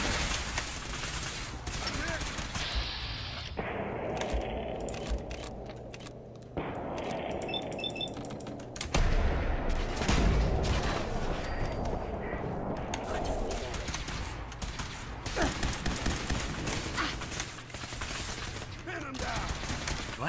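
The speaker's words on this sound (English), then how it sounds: "Open fire!" Rapid gunfire bursts and heavy artillery-like booms from a Fallout 4 firefight in a control room, loud and dense throughout with mechanical clatter and brief voices mixed in.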